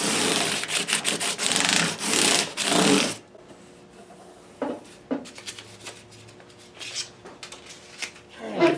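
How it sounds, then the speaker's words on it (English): Sanding with 600 grit sandpaper after stepping up from 400 grit, a steady loud rasping scrub in quick strokes for about three seconds, then scattered lighter rubs and brief scrapes with quiet gaps. "we've stepped it up to 600 grit, and that will get rid of the 400 grit marks"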